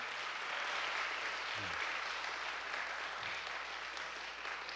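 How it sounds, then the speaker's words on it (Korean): Applause from an indoor church congregation at the opening of a youth gathering, a steady dense patter of clapping held for several seconds with a brief low voice underneath. "먼저 큰 감사의 박수 한번 올려드리면서 시작하도록 하겠습니다"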